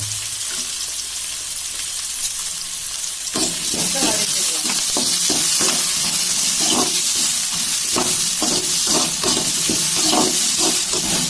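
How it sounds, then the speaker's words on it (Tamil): Onion and curry leaves crackle and sizzle loudly in hot oil after mustard seeds have popped, for a goat intestine thokku; a quieter sizzle swells suddenly into a steady, bright frying hiss with repeated stirring scrapes. "கடுகு பொரிஞ்சது வெங்காயத்தை சேர்த்துக்கலாம். இப்போ கருவேப்பிலை சேர்த்துக்கலாம்."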